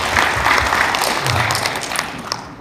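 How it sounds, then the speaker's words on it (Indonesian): An indoor crowd at a handover ceremony for infrastructure aid and AI teacher training breaks into sustained, dense applause, with many hands clapping steadily for several seconds. "Kita tepuk tangan dulu buat Telkom."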